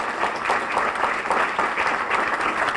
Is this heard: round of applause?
yes